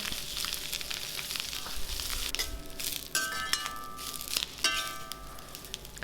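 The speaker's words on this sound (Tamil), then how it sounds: "இப்போ அதை போட்டுட்டு இது நல்லா மொறுன்னு பொரிஞ்சு வர அளவுக்கு இதை நம்ம வறுத்து எடுத்துக்கலாம்" Curry leaves frying crisp in hot oil for a curry-leaf kuzhambu, a loud continuous close sizzle with crackles, then a few metallic clinks and scrapes of a spoon against the pan, no talking.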